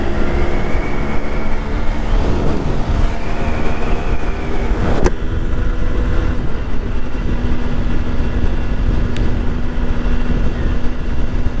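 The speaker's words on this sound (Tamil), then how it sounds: "எவ்வளோ தூரம் டிராஃபிக் வருது பாருங்களேன்." Heavy road traffic in the rain on wet roads, recorded from a Yamaha RX100 motorcycle, with a steady loud wash of engine and tyre noise, a passing horn-like tone and occasional sharp clicks.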